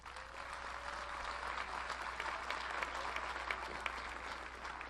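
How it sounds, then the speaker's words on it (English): Audience applause at a college commencement ceremony, a dense, even wash of clapping from a large crowd that holds steady throughout at moderate distance, with no talk over it. "Please join me in a round of applause for all of the Golden Tigers."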